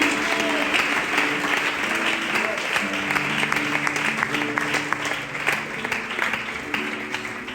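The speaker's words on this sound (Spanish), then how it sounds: "Fuerte ese aplauso para Dios." A church congregation applauds warmly for God during a Filadelfia worship service, sustained dense clapping from many hands in a hall, steady throughout with faint scattered voices underneath.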